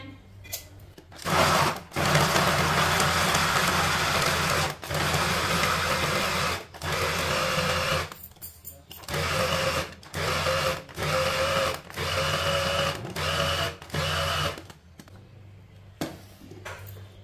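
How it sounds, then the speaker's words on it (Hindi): An electric food chopper whirs through carrots for gajar halwa in loud, buzzing motor bursts a second or two long, separated by brief quiet pauses, up close. "चॉपर में डालेंगे। इससे अच्छी तरह चॉप कर लेते हैं।"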